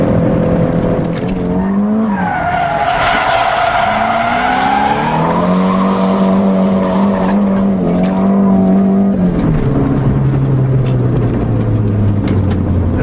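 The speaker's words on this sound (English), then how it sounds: "we're going to try the clutch kick. A bit faster this time. Still go to second gear" A drift car is thrown sideways with a clutch kick in second gear at about 80, engine roaring loud and rising in pitch while tires squeal continuously through the slide, close and sustained.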